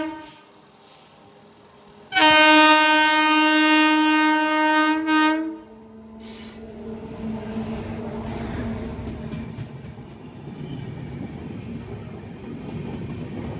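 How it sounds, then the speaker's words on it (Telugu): Kanyakumari-Howrah express hauled by a WAP-7 electric locomotive overtakes: a loud sustained horn blast for about three seconds, then the rumbling rush of passing coaches continuing close by. "చెప్పా కదా కన్యాకుమారి హౌరా బండి ఓవర్టేక్."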